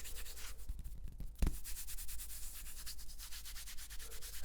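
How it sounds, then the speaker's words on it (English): Fabric rubbed right up against a microphone gives a soft, continuous scratchy swishing, steady throughout with one sharp bump partway through; close, intimate and without any voice. "rubbing the fabric is going to elicit a different sound"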